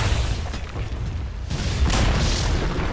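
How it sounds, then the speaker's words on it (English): A Dota 2 tower collapses in the video game, giving a heavy booming crash with a rumbling low burst that swells again partway through, loud and with no voices over it. "Dire's bottom tower has fallen."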